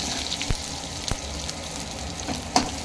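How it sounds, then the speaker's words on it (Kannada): Crushed garlic fries in hot oil for tomato sambar, giving a steady close sizzle with a few sharp pops and spatters. "ಈಗ ಜಜ್ಜಿರೋ ಬೆಳ್ಳುಳ್ಳಿ ಹಾಕಿ ಫ್ರೈ ಮಾಡಿ ಕೆಂಪಾಗವರು"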